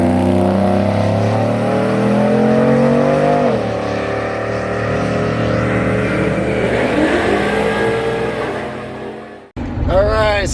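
A 2004 Buick Rainier SUV on the road, heard from inside the cabin as a steady engine and road drone that rises and falls with shifts and acceleration, close and loud, cutting off briefly near the end.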